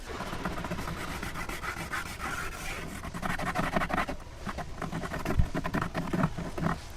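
A steady wooden rubbing and rasping, close up, as the slats of a kitchen tambour door slide along their grooves with a few small knocks, no talking.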